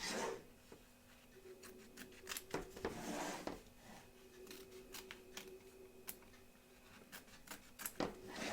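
Scissors trim excess applique fabric from the back and front of an embroidery hoop, a series of faint, close snips and rustles with short pauses between cuts.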